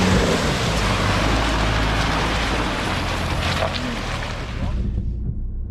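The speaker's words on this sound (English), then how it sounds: "Rain's starting to pick up" Steady rain pours loudly on a 4x4 in the Glasshouse Mountains, a dense, continuous hiss with engine rumble underneath, easing slightly near the end.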